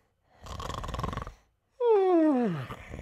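A voice imitates a person snoring: a raspy, rattling snore of about a second, then a pause and a long falling vocal groan, loud and close.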